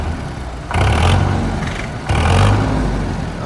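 A model 855 tractor running at a tractor market in Patiala, a loud close diesel rumble that surges twice in quick rev-ups before settling back to a steady throb.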